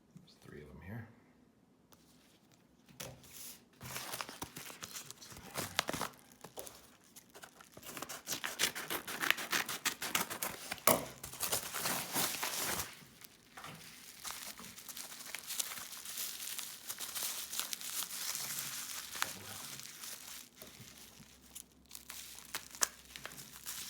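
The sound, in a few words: opening taped-up package of sports cards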